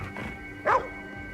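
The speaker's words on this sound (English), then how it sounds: "Yeah, that's a dog in the game." A single dog bark rings out in the video game Ghostwire: Tokyo, short and fairly distinct over a low, quiet ambient background.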